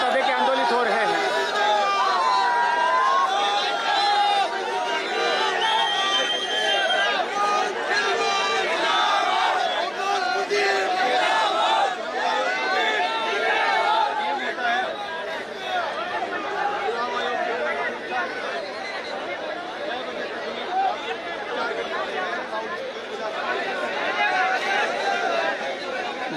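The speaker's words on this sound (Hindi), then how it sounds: "देखिए भीड़, देखिए यहाँ पर भारी भीड़ है" Large crowd at an outdoor political rally, a continuous dense roar of chatter and shouting voices, loud and close, unbroken throughout.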